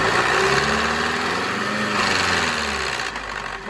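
Skoda Superb 1.8 TSI petrol engine with an oil pressure drop affecting its timing, revved up under load, giving a loud, continuous high-pitched mechanical whine with rising and falling tones.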